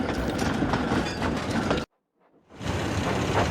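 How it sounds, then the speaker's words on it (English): Mavis the diesel engine trundling over a steel bridge in a Roblox Thomas and Friends game, a loud continuous rattling rumble of wheels that cuts out briefly to silence, then resumes. "he sounds very different to Mavis when she trundles over the steel bridge."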